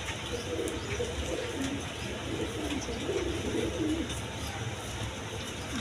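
A pair of undulation-colour beauty homer pigeons coo softly in a small cage, a continuous low murmuring cooing under steady background hum, with faint chirps now and then.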